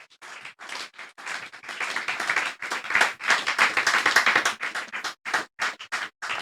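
A church congregation claps in acclaim of the Lord, a steady, dense run of handclaps filling the room, loud and continuous with brief dips, no talk over it.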